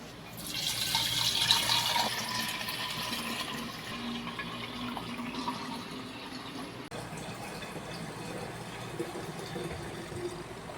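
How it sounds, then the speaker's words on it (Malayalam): Homemade beetroot wine is poured from a vessel into a jar, giving a steady gurgling liquid stream that is louder at first, then settles into a softer continuous trickle. "അപ്പം നമ്മൾക്കിതൊരു ജാറിലോട്ട് ഒഴിച്ചു കൊടുക്കാം"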